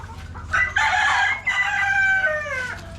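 A rooster crows loudly and close by, with hens clucking around it in a farmyard, the crow rising and holding for about two seconds over steady low background noise.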